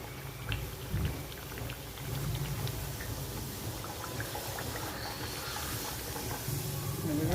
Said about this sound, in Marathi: आता आपण तेल तापलंय तसं हे तेलामध्ये सोडूया